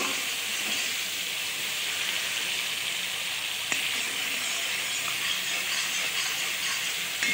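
Masala fries in a pan for chicken korma, giving a steady, dense sizzling hiss at even loudness, with one faint tap partway through and no talking.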